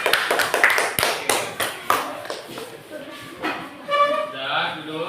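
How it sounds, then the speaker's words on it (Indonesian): A classroom audience briefly claps for a presenting student group, a short burst of scattered hand claps and taps close by that fades as people talk over it. "kasih aplaus dulu untuk kelompok 3"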